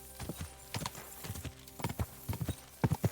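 Hooves of a horse in Kingdom Come Deliverance II clop in quick irregular bursts, fairly faint and close, alone without any talk.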